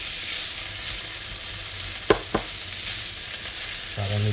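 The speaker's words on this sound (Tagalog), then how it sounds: "Halo lang natin siya." A cooking mixture with raisins being stirred in, heard as a low steady frying hiss with two sharp utensil knocks midway and a brief low hum near the end.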